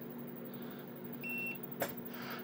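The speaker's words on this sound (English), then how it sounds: "It'll occasionally beep," A handheld magnetic field detector held against a Tesla coil light gives a single short, thin electronic beep midway, faint over a steady low electrical hum, followed by a brief click; nobody speaks.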